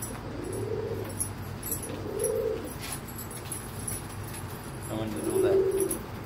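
A black female pigeon coos near a milk-crate nest box in a few low, rounded phrases around the second, third and sixth seconds, set against a busy background hiss.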